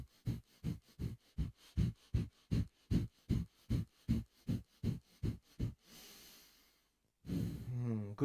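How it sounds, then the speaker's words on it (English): Rapid, rhythmic forceful nasal exhalations of the breath of fire yoga breathing technique, about sixteen evenly spaced puffs close up, followed by a long sighing exhale and a brief voice at the end. "Good job. Breath of fire."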